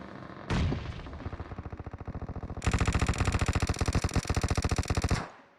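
Automatic gunfire in the mobile battle-royale game PUBG Mobile: a sharp opening shot, then a rapid rhythmic burst, followed by a louder, denser sustained volley that cuts off abruptly near the end.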